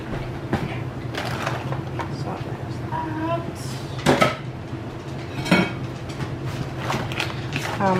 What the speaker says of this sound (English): And I'm just going to mix it up so that the hash browns are kind of mixed in with it.